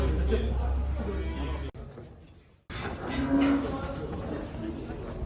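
Calves moo at a livestock market in Taldykorgan. One long, low moo comes at the start and a shorter one follows later, both heard under nearby talk and market bustle.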